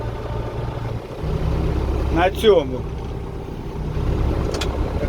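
A tractor engine runs steadily during wheat sowing, a constant low drone that continues under brief talk in the cab.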